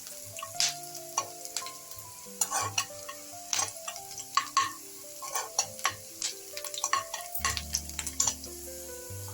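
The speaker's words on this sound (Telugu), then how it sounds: "ఇప్పుడు ఆనియన్ ఫ్రై అయినాయి కదా" Onions fry in hot oil for a meal maker masala curry, giving a steady close sizzle broken by frequent sharp clinks and scrapes of a spoon stirring the pan, with no talking.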